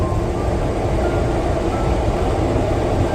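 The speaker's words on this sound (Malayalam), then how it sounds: "അർമീനിയയിലെ യെരവാനിലെ ഒരു മെട്രോ സ്റ്റേഷനാണ്" A loud, steady rumble of a train running through a deep underground metro station in Yerevan, Armenia, fills the space, continuous and unbroken, with no voices.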